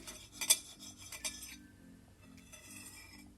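Cutlery works on a small party canapé, pressing and slicing it in half with a fork and knife, giving a few sharp clinks and scrapes against a plate over soft background music.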